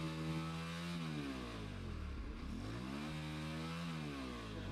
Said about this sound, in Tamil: இப்போ நம்ம வந்து ஒரு ஃபுல் டிரைவ் அடிச்சு பார்த்துருவாங்க.